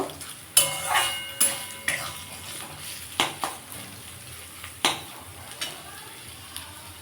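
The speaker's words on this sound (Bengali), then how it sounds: "থোরটা আমি একটু ভেজে নেব" Banana stem sizzles in a pan while a utensil scrapes and clatters against it in sharp, intermittent strokes, fairly close and with no talking.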